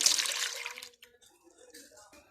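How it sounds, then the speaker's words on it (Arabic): A cup of water is poured into a mixing bowl of liquid ingredients, making a short, close splashing rush that fades after about a second, followed by quiet talking. "هحط كوبايه ميه."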